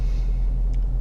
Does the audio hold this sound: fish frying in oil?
no